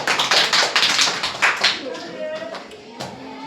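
A class of children claps in brisk, loud bursts for about two seconds, then a few scattered taps trail off as talking carries on over the end.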